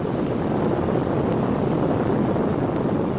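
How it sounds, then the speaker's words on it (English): A steady, dense rumbling roar of the Apollo lunar module ascent engine firing in a ground test, constant and unbroken for the whole stretch with no voices. "This is the noise produced by the LEM's ascent engine during a ground test."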